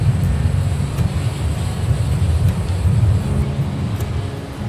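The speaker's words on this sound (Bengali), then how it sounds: "এত হাওয়া বইছে এখানে যে ক্যামেরা স্টেবল রাখা যাচ্ছে না" Strong wind blowing across Digha beach and buffeting the microphone, a loud continuous low roar that swells and eases without any voices.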